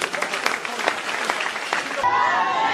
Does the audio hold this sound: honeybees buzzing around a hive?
no